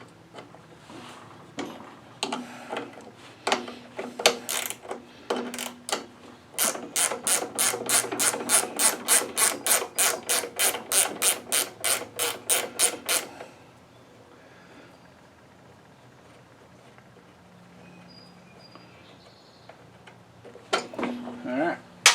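A hand ratchet clicks in a quick, steady run while backing a bolt off the nose of a Cub Cadet garden pulling tractor, preceded by scattered metal clanks and followed by a quiet stretch.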